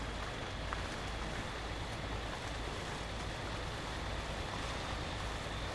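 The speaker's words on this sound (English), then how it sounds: "Wheels are spinning." In the Spintires: Mudrunner video game, a truck's wheels spin in water, giving a steady, fairly quiet wash of churning, splashing noise with low engine rumble beneath, unbroken throughout.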